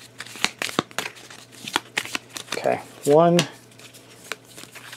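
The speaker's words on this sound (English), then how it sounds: "Let's shuffle that up." Deck of cards being shuffled by hand for the Tainted Grail board game, a quick riffle with a fluttering buzz, heard close under a man's speech and table clatter.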